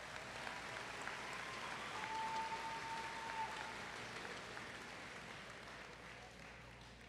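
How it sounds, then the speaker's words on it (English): High school graduation audience clapping, a soft, distant, steady patter of applause across a large venue that slowly tapers, with a faint tone passing briefly through it. "Let's give it a round of applause."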